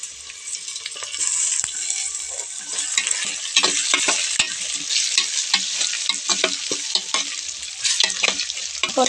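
Onion, tomato and potato with turmeric frying in a pan for khichdi make a continuous crackling sizzle, broken by repeated scraping stirs of a spatula, fairly close and steady throughout.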